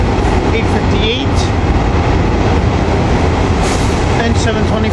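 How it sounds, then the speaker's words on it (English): A commuter train with railcars rumbles loudly and continuously past the platform at 30th Street station during rush hour, with brief wheel squeals and a person talking over the roar. "Here goes train 586, my train from Bryn Mawr that's going to, that brought us to 30th Street."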